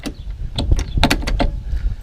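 A 1966 MG MGB Roadster door is worked and locked, giving a quick series of close, sharp mechanical clicks and knocks with no talking.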